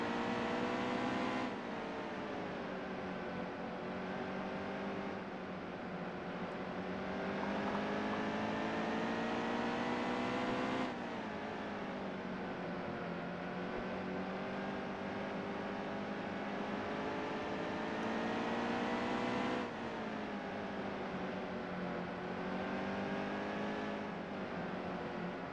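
Stock car engines at Bristol in NASCAR Heat 2 drone loudly and continuously, the pitch easing down as they lift off and then climbing again as they get back on the gas, repeating in long waves.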